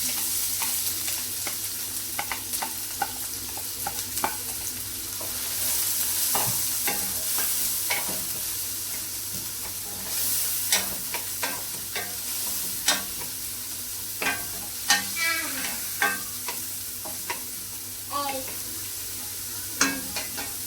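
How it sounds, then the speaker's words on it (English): Onions sizzle in hot oil for chana daal, a steady moderate frying hiss broken by sharp stirring clatters and spatula scrapes. "Just let it a bit heat up, and then we will be adding the onions."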